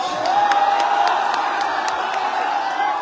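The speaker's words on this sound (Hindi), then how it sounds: "एगो ताली बजा के स्वागत करेंगे" A crowd at a Bhojpuri political and film-star event in Jale applauds and cheers steadily, a dense sustained wash of clapping and shouts at a moderate distance.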